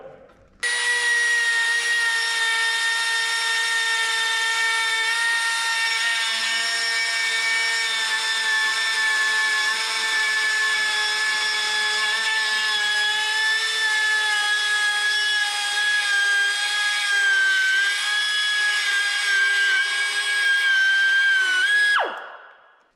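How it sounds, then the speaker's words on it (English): A die grinder whines at a steady high pitch for about twenty seconds, close and loud, then winds down sharply at the end, with no talk over it. "The only trouble with this die grinder"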